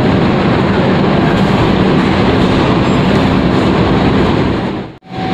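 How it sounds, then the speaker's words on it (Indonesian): A loud, steady rumble of rail noise inside Pasar Senen railway station in Jakarta, a dense continuous roar that holds for several seconds before briefly cutting out near the end. "sekarang saya sudah berada di dalam stasiun Pasar Senen"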